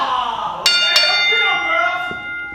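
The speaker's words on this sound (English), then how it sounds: "There's the opening bell," A wrestling match opening bell at a CZW Dojo Wars event rings twice in quick succession, loud and bright, its metallic tone ringing out over crowd noise and a commentator's talk.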